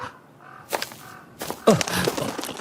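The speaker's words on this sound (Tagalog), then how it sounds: "Ano ba namang ibon to? Bigla na lang sumusulpot." A crow-like bird caws in short harsh bursts as a horror-story sound effect, close and loud, with a couple of sharp cries near the end.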